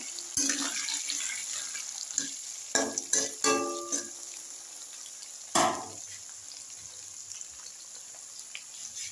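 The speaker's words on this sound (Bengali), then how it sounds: "আমি দিয়ে দিচ্ছি পাঁচ ফোড়ন, আর দিয়ে দিচ্ছি পেঁয়াজ কুচি এবং লঙ্কা, কাঁচা লঙ্কা" Panch phoron, chopped onion and green chilli hitting hot oil in a pan: a close sizzle with a few sharp bursts of crackle and stirring scrapes, then a steady, softer frying hiss.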